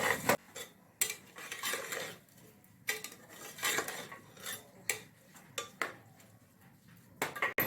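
A spoon scrapes and clinks against a metal pot as white peas curry is stirred over a high gas flame, with repeated sharp knocks and scraping strokes close by and no talking.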